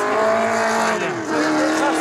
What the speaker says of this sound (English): Camping, driving here in classic cars.